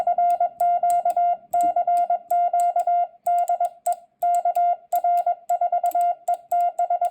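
Morse code tapped out on an iambic paddle key in a ham radio demonstration: crisp electronic tone beeps in quick, evenly timed dits and dahs, grouped in repeating bursts with brief gaps, clear and alone.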